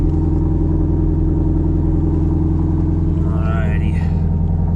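A Ford Mustang GT350 idles on a cold morning, a loud, steady, deep engine rumble with an even harmonic drone, close and continuous, while a voice briefly speaks over it toward the end.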